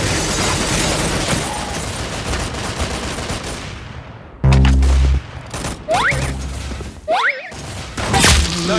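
Gunfire in the shooter video game Arsenal: a dense, continuous stretch of rapid shots for the first four seconds, then loud separate heavy shots and impacts with brief gaps, all close and without talk.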